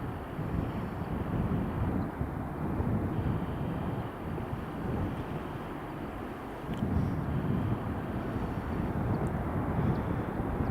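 British Airways Airbus A321neo at Edinburgh Airport, a steady low roar of its engines mixed with wind buffeting on the microphone, holding at an even level throughout with slight swells.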